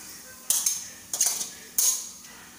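Chivda made from fried poha, raisins and dry copra is stirred in a pan, producing three scraping, rattling bursts of a spoon against the metal, close and separated by short pauses.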